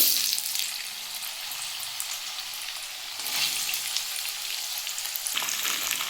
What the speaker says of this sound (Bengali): আমি এবার আলু আর টমেটোটা দিয়ে ভালো করে ভেজে নেব